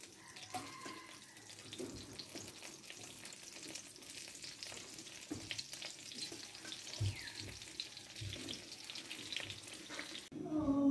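Eggplant fries in a pan with soft, continuous sizzling and crackling, fairly faint, with occasional clatter of cookware and a watery splash toward the end.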